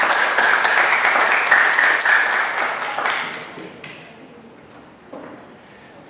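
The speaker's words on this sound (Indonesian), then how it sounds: "Tepuk tangan untuk Ibu Linda." An audience claps for a guest invited to the front at a book discussion on fashion and cultural studies, steady loud applause for several seconds that thins out and dies away to a few scattered claps.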